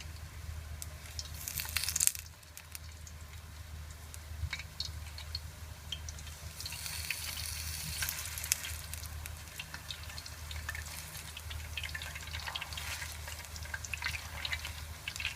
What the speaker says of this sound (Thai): ก็ตั้งน้ำมันให้ร้อนนะคะ แล้วก็ใส่ กล้วย สไลด์นะคะลงไปทอด ทีละแผ่นนะคะ